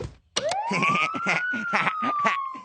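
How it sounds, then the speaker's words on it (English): A siren winds up and holds a steady wail while a person talks over it. "I'm gonna go turn the siren on."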